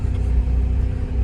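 A tractor engine labours in mud while towing a stuck car near a pine forest logging site, a steady loud low rumble with slight revving swells throughout, no voices.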